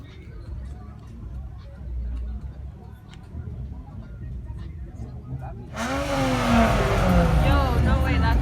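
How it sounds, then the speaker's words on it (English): A Hyundai car at a car meet revs its engine loudly from about six seconds in, rising pitch sweeps over a busy crowd backdrop with people chatting throughout. "that Hyundai sounds good"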